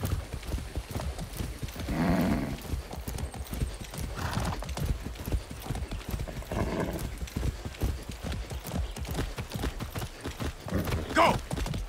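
Horse hooves clip-clop steadily in Far Cry 6, a fast, even gallop throughout, with brief neighs and whinnies rising over the hoofbeats and a voice occasionally speaking.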